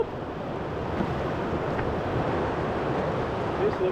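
Rushing, broadband water noise from a river rapid wave met while canoeing the River Usk between Talybont and Llangynidr, steady and close with wind buffeting the microphone.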